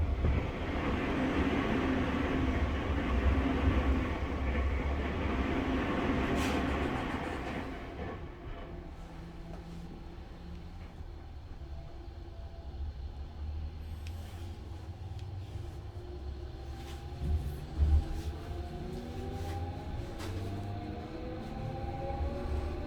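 Inside a Tokyo Metro 13000 series train: a loud rolling rumble fades to a quieter hum, then rising electric motor whines sweep upward as the train pulls away again, with occasional clunks.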